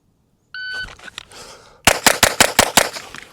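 A pistol fires six rapid shots at a shooting range after a shot timer's start beep, the loud sharp cracks evenly spaced in a quick string.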